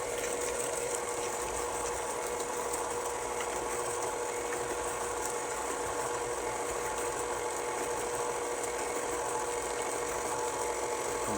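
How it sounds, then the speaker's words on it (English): An electric hand mixer whirs steadily on low speed through cookie cake batter, a constant close mechanical hum with a faint rattle that runs unbroken and alone for the whole stretch. "Stop the mixer."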